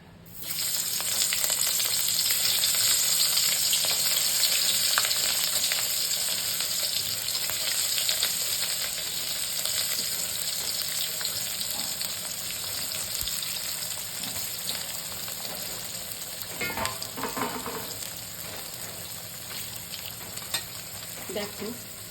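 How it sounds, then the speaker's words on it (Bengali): Teasel gourd (kakrol) slices fry in a pan with steady, close sizzling while a utensil stirs and scrapes through them, with a few louder clatters of stirring near the end. "দেখো এক খেপ কাঁকরোল ভাজা হয়ে গেল।"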